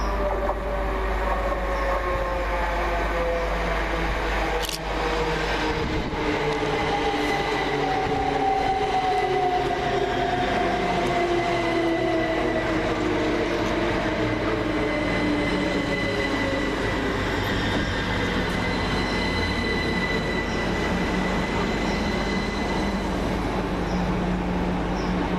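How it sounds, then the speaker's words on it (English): Two coupled Greater Anglia Class 379 electric units pull into Tottenham Hale station, a long steady rail rumble with gliding motor whine, wheel squeal and faint clatter, close and continuous. "379008 and 379020 arrive with the 1500 Greater Anglia service from Cambridge North to London Liverpool Street"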